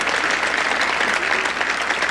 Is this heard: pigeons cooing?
no